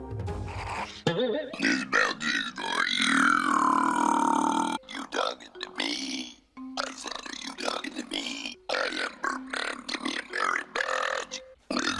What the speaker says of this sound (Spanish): la mayor parte de los eructos que se escuchan en el episodio